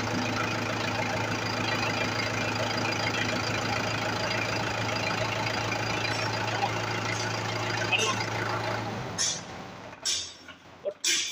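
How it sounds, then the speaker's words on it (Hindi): A Mahindra tractor engine idles with a steady, loud diesel rumble for several seconds, then cuts out into uneven knocks and clatter, with people talking nearby. "भैया के पास ट्रैक्टर है जी और हम कुछ स्टार्ट करेंगे ये देखो भाइयों"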